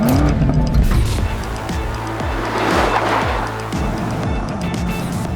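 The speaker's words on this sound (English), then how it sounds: "Come on then, Jack, let's see if you can keep up with the 730 horsepower M5." A BMW M5 with 730 horsepower and a Porsche Taycan Turbo GT drive around the Dunsfold test track. Loud, close engine roar holds steady, with repeated sweeping pitch shifts as the cars accelerate and change gear, and brief tyre noise.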